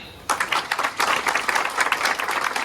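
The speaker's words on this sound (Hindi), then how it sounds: "तालियां।" An audience at a youth leadership summit bursts into applause after a brief quiet moment, a loud, even wash of clapping that holds to the end.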